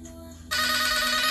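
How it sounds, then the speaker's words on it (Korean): A phone ringtone for an incoming call bursts in abruptly partway through, loud and sustained, after a quieter background stretch. "누구야 이거? 전화 어떻게 받는?"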